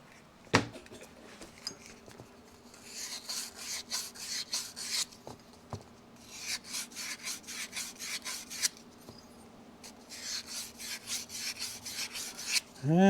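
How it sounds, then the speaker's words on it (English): Hand sanding with sandpaper on a Honda XL 75 engine part, during work on bore and piston fit, gives close rhythmic back-and-forth rasping strokes in several bursts, with a few knocks between them. "I need to get some sandpaper right there"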